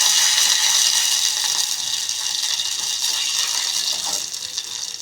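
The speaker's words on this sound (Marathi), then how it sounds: "आणि याच्यात आपल्याला थोडं पाणी टाकायचं आहे." Water poured into a pan for village-style chickpea greens with garlic, a loud continuous gushing splash close up that tapers slightly toward the end, with no voices.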